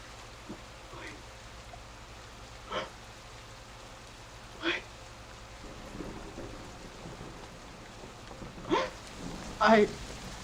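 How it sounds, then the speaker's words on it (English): Several sharp thunder cracks ring out in the distance over a steady wash of rain, with bigger jolts toward the end of the stretch. "you hear a loud crack of lightning off in the distance."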